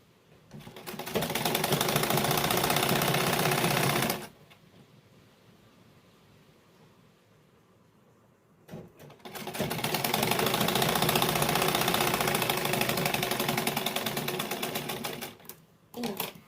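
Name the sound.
sewing machine stitching invisible zip into kurti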